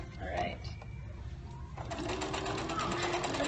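A sewing machine runs in short bursts stitching fabric for a bow clutch, sewing over pins, a faint buzzing whir under women chatting nearby in a room.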